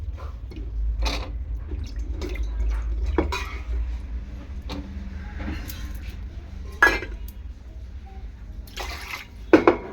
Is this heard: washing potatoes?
yes